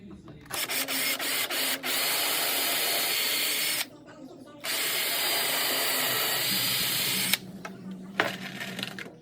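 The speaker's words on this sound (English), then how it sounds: "we got 2 holes here that we need to pre-drill" A power drill runs in two long bursts, whining as it pre-drills holes in wood nearby, with a short pause between and clicks and handling noise around them.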